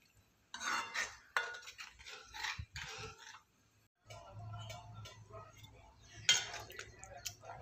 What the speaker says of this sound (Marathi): हे आपण असं हलवत राहायचं आहे 5 मिनिट. मोठ्या गॅसवरच हलवायचं आहे